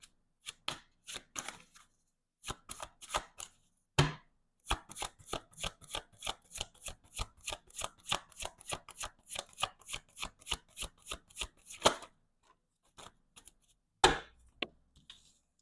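A deck of tarot cards being shuffled in close, rapid bursts of crisp riffling clicks, with short pauses between rounds and no talking.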